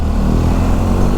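A BMW R 1250 GS adventure motorcycle engine runs loud and close with a steady, throaty rumble that holds evenly throughout, with no voices over it.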